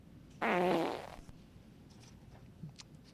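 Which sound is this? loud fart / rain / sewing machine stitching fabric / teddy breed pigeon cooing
loud fart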